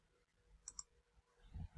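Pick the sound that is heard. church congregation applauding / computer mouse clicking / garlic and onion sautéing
computer mouse clicking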